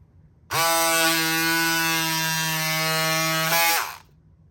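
Cordless pink electric scissors run for about three and a half seconds as they slice through several folded layers of fabric, giving a steady, close buzzing whine that begins and ends abruptly.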